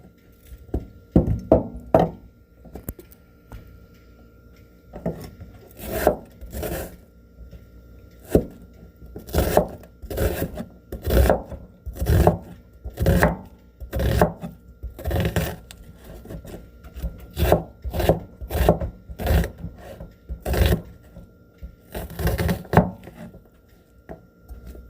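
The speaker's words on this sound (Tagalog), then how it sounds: "mag-iwa tayo ng sibuyas." A knife slices an onion on a board in repeated close, sharp chops, sometimes in quick bursts and sometimes spaced, with brief pauses and no voices.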